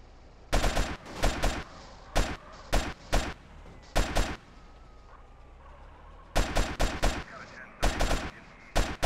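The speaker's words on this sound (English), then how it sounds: "So they have rifles too." Enemy rifles crack out in GTA San Andreas in sharp, loud bursts of rapid shots, separated by short gaps, with volleys clustering near the start and again toward the end.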